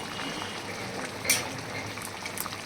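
A pot of fish and potato curry, a spicy oil-based jhol with kajoli fish, bubbles on the stove with a soft, steady simmering hiss and one brief louder splashy burst partway through.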